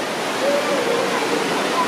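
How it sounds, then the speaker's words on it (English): Water rushes steadily inside Meramec Caverns after heavy rain, a loud, continuous broadband roar like a stream or small waterfall echoing underground. "I'm sure by now that you've probably heard that water."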